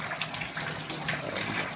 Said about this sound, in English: washing it under running water. It's important, clean running water like this